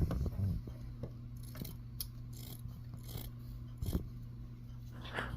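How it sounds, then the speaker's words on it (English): Scissors cut an old cotton rag into squares for char cloth, giving a few sharp snips and crisp fabric slices over a steady low background hum, close and fairly quiet. "Now we're just going to cut these squares out."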